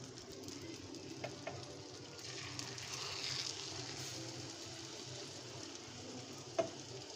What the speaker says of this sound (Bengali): ডিম ভাজা করতেছি আমি একসাথে